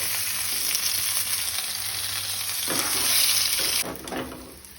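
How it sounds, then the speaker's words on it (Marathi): Mushrooms fry in a pan in a home kitchen, a steady broad sizzle filling the whole stretch, swelling louder midway before easing off slightly near the end as they are stirred. "पळयात मशरूम बरी फ्राय करप जाल्या।"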